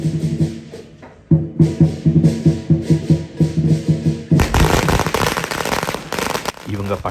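Firecrackers exploding at a Chinese New Year celebration in Malaysia, opening with a rapid string of sharp pops and cracks and then bursting into a dense, loud barrage of crackling, with people talking underneath.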